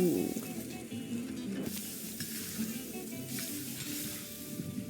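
Food sears in a hot pan with a steady, close sizzle and soft crackle, holding at an even level throughout with occasional stirring scrapes.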